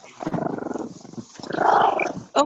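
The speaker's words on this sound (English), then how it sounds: "Caitlin, leave the damn dog alone. He's growling" A dog growls in two long, rumbling stretches, close and fairly loud, broken by a short pause, with a sharper vocal burst at the end.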